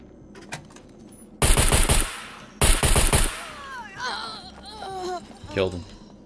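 A kitted pistol fires in the survival video game Scum: two loud, close, rapid bursts of shots with a short gap between them, followed by quieter sounds and voices.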